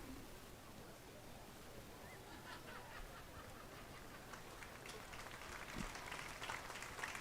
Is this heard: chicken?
no